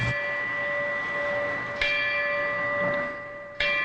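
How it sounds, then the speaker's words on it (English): A Cape Vincent Volunteer Fire Department memorial bell rings in slow, solemn strikes, each loud, sustained tone decaying gradually before the next, with no voices over it. "The ringing of this bell signaled the end of 25-year-old Mark Davis's service to the Cape Vincent Volunteer Fire Department"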